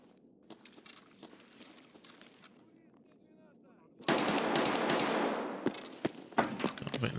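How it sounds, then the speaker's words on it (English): Enemy automatic gunfire in Escape From Tarkov during a PVE Factory raid: scattered sharp shots at first, then a sudden loud burst of close machine-gun fire with rapid cracks that continue to the end. "They're shooting at me."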